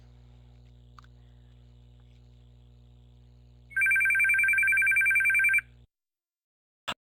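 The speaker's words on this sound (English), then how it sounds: "Apologize when my phone is ringing." A mobile phone rings with a loud, steady electronic trill lasting about two seconds over a low background hum, then a short click follows after a pause.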